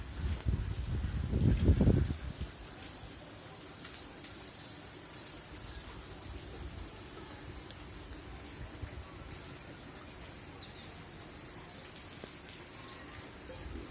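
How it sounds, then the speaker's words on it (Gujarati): Rain falls steadily in Jam Raval's Jalaram Nagar during wet weather, a soft, even patter with a louder, rougher burst of sound in the first two seconds and no talking. "જો વરસાદ વધ્યો છે અત્યારે જે તમે જોઈ શકો છો"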